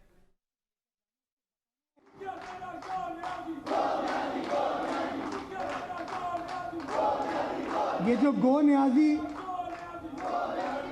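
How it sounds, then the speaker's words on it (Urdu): A large political rally crowd chants "Go Niazi Go" slogans, a loud sustained mass of voices swelling and rising in waves after a brief silence. "جو گو نیازی گو کے نعرے"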